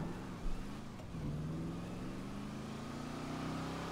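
A car engine in GTA 5 drives steadily, its mid-pitched hum rising gradually as if accelerating, with a brief low thump near the start; continuous and fairly quiet throughout, no talking.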